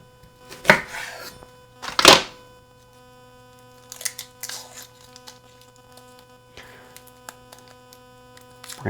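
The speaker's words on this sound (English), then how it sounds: "We're going to chop it up nice and" An onion being chopped for fajitas, heard as a few sharp knife strikes on a board followed by lighter, irregular cutting taps, close, over a steady low electrical hum with no voices.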